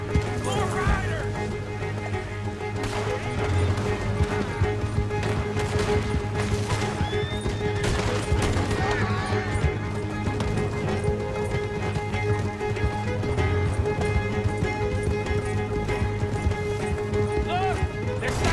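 Horses galloping in Red Dead Redemption 2 during a chase, with dense continuous hoofbeats, repeated neighs and whinnies, and intermittent crashes, all loud and close beneath shouted dialogue.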